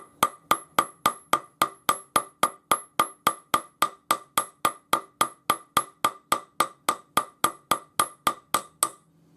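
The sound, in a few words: jeweler's hammer flattening a jump ring loop on a bench block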